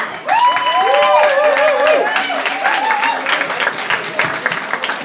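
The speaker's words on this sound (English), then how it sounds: "Big round of applause for everyone." An audience at a student union election hustings breaks into a short burst of clapping and cheering, loud and close, with voices whooping over the applause.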